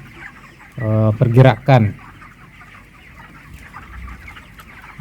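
Broiler chickens about 25 days old in an open stilt coop give a short burst of three or four loud clucks near the start. The rest is quiet, with faint farm background and a little speech.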